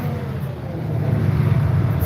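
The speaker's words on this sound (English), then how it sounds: "Slow my engine down." A John Deere S780 track combine's engine throttles down in a corn field on a windy day, a steady low rumble that sits close and fairly loud with no talk.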